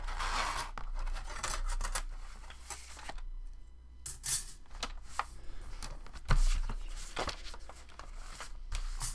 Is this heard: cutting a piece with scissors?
yes